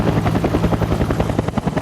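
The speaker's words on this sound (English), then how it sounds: "The choppers are heading in, everybody." A helicopter's rotor thumps loudly and rhythmically nearby, rapid blade chops over a steady engine roar.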